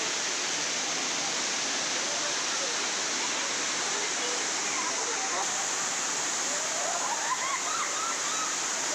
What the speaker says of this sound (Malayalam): ഇതാണ് മീൻചുട്ടി വെള്ളച്ചാട്ടം.